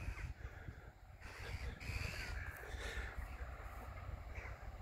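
Crows or ravens caw in a flock at an abandoned industrial estate slum, harsh calls repeating over a rough, windy outdoor background at moderate distance.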